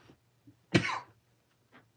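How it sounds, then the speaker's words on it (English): A single close, short cough from a man with a lingering tickle in his throat, one sharp burst followed by a fading rasp, with faint breaths before and after in a quiet setting. "apologize for the cough"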